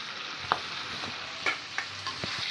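Chopped chayote sautéing in hot oil in a pan, giving a steady soft sizzle broken by a few sharp stirring clinks and scrapes.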